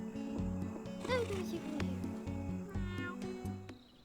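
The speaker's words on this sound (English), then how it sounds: "you hear a raspy meowing outside" Raspy, strained cat meows in the game Cat Cafe Manager rise over a low pulsing musical drone, with a couple of drawn-out cries standing out near the middle.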